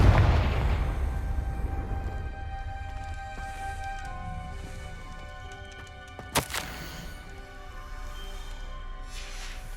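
A Confringo blasting spell bursts once in the Hogwarts Legacy video game, a sharp, loud crack standing out over a steady low game ambience.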